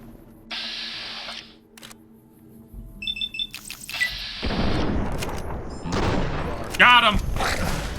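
Shotgun fire in the video game Fallout New Vegas: abrupt broadband blasts amid game sounds, with electronic beeps and a chirping tone, while a voice talks throughout.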